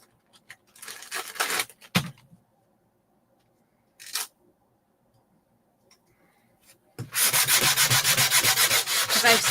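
Wood is rubbed with sanding pads in short scratchy bursts separated by pauses, ending in a longer, louder stretch of steady back-and-forth sanding up close.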